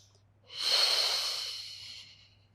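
A single deep breath drawn in during a guided exercise routine, a broad airy whoosh that swells, holds steady and slowly fades, close to the ear with no talking over it.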